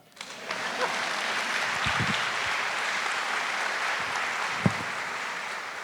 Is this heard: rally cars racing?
no